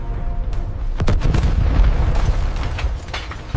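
Heavy artillery support barrage in a military video game set in a rebel-occupied city, with an Abrams tank nearby: a dense, continuous rumble of booms and blasts, sharp impacts near the start, loud throughout.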